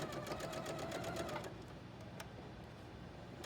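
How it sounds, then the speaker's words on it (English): Sewing machine stitching quilt pieces at 1.8 stitch length, with a rapid, even, close mechanical chatter for about a second and a half before it stops, leaving only faint room noise. "I want to sew this way so that I don't have to worry about this coming apart here."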